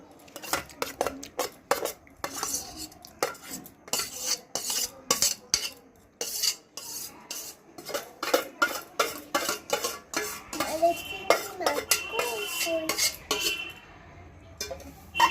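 Egg and prawn fried rice being mixed in a pan, with a metal spatula scraping and clanking rapidly and steadily against the pan, close and fairly loud, with faint sizzling underneath.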